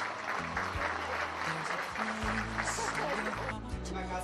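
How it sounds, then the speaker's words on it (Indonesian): Audience applause at an Indonesian television event, a steady sustained wash of clapping mixed with a low musical hum underneath. "Kita berikan tepuk tangan Bapak Ibu sekalian."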